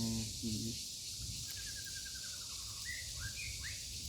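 Several bird calls ring out over a quiet outdoor background, a descending chirping series followed by a few sharper rising notes, after a brief voice.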